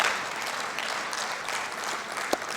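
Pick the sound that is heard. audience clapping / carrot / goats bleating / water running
audience clapping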